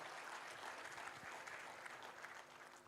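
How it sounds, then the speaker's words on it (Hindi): Audience at a literary festival in Surat applauding in a welcome, dense continuous clapping at a faint, distant level. "बड़े ही सम्माननीय भ्राता श्री गोपाल जी का एक बार जोरदार तालियों से सभी स्वागत और सम्मान करिए।"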